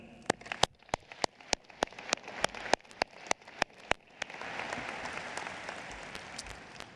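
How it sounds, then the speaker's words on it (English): Scattered sharp claps ring out in an irregular burst at a high school graduation ceremony, then give way to a steadier wash of hands clapping together, moderate in level. "join me in a round of applause"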